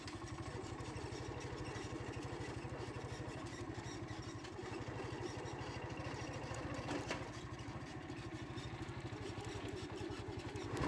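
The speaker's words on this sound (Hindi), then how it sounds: "मैं बाइक ड्राइव कर रहा हूँ और अच्छा फील कर रहा हूँ" A motorcycle engine putters steadily while a rider heads out on a rainy village road, a rapid even chugging pulse that stays close and constant throughout, with no one speaking.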